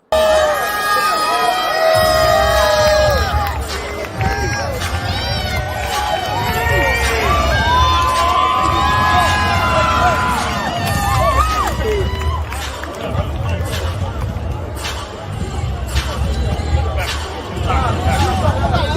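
A crowd cheers and shouts after a boxing fight, loud and continuous, with overlapping voices, yelling and whoops throughout and brief dips in level.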